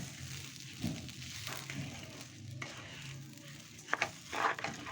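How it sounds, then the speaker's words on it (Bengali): Rice frying in a pot for pulao, stirred with a spoon, makes a steady, close sizzling crackle with soft scraping and a few sharper clinks near the end. "চালটা আমি আরও কিছুক্ষণ ভেজে নিচ্ছি।"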